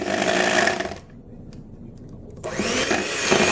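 A hand mixer on its lowest setting whirs steadily through banana nut bread batter, running loud and close, cutting out for about a second and a half, then starting up again.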